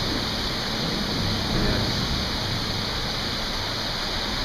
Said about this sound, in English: crazy rain now